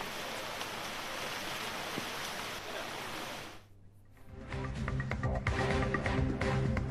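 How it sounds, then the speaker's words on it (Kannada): Heavy monsoon rain pours down across Dakshina Kannada, a steady dense hiss that briefly dips around the middle and then returns louder and closer with patter and splashes over a low rumble. "ದಕ್ಷಿಣ ಕನ್ನಡ ಜಿಲ್ಲೆಯಾದ್ಯಂತ ಭಾರೀ ಮಳೆಯ ಅಬ್ಬರ ಜೋರಾಗ್ತಾ ಇದೆ"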